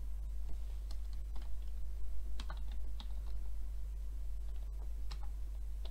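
Keys clatter on a computer keyboard as a folder name is typed, a quick irregular run of close, light clicks over a steady low electrical hum.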